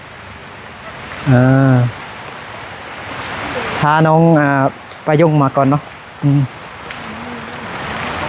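Heavy rain hisses steadily across the whole scene, a dense wash of drumming that never lets up, while several people talk over it in short bursts.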